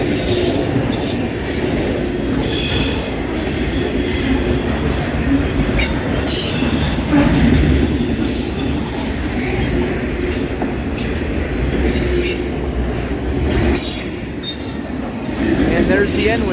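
A long CSX freight train of autorack cars rolls past on the Old Main Line at Newport, a loud continuous rumble of wheels with intermittent high squeals and clatter, and a voice is faintly heard now and then.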